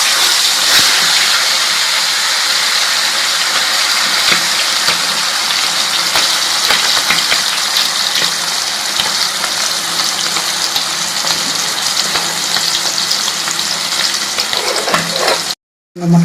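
Marinated pieces frying in hot oil, a loud, dense, continuous crackle and sizzle close up that runs steadily before cutting out abruptly near the end.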